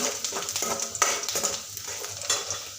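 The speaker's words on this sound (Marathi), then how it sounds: "आता आपला कांदा छान असा तांबूस होईपर्यंत मी त्याला शिजवून घेणार आहे" Onion frying in a pan until browned, a close, busy sizzle punctuated by rapid scraping and clinking stirs of a utensil against the pan, with no voices.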